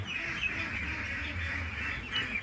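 Meat ducks in a pen at the grower stage, a dense, continuous chorus of overlapping quacks close by, with a steady low murmur of the flock underneath.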